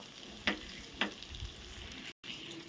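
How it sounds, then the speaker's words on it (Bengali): Spices such as turmeric, coriander and cumin powder frying in a pan for a paneer curry, a soft steady sizzle with two sharp clinks of a utensil against the pan, quiet and close. "এখন মশলাটা আমি রেডি করে নিই এটা হোক ভাজা হোক"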